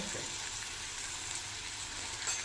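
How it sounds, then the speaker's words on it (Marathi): Eggplant sautéed with spices and salt in a pan gives off a steady, close sizzle that runs unbroken and alone. "आणि आता छान असं परतून घेते"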